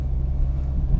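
A 1986 Hyundai Pony GL with a 1.6-litre engine drives along the road. A steady low engine and road rumble fills the short clip evenly, with no distinct events.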